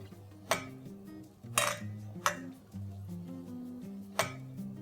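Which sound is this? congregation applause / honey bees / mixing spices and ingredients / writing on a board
mixing spices and ingredients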